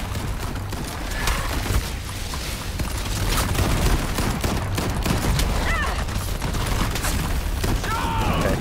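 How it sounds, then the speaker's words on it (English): Sustained gunfire rattles through a firefight against an enemy in the shooter Shatterline, dense overlapping shots with mechanical clatter and booms at a steady moderate level, no voices. "Now I'm just gonna shoot this thing."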